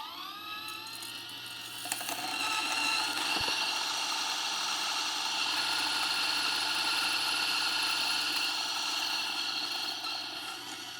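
A Lagom Casa home coffee grinder grinds beans with a steady motorized whir, running continuously close by, with a brief click near the start; no voices.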